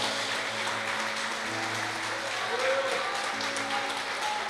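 A Portuguese-speaking church congregation applauds during an evening sermon, a steady wash of clapping heard under sustained musical tones, moderately loud and continuous for about four seconds.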